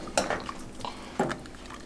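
A utensil knocks and scrapes a few times inside a pot of chicken and potato soup, two sharp clinks followed by softer stirring scrapes, close and clear with no talking.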